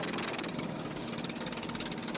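Steady, rhythmic thumping of a boat engine during a ride at Jaflong, Sylhet, a close, continuous knocking drone with brief hissy bursts over it.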